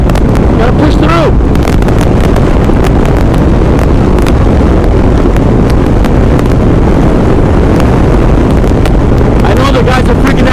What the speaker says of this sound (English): This is too much wind!